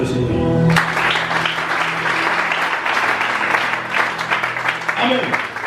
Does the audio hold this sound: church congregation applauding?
yes